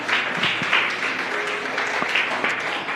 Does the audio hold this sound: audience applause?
yes